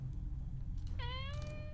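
Cat meowing in a cat life video game set in a house at night, a single clear drawn-out meow over a low background hum, fairly quiet overall.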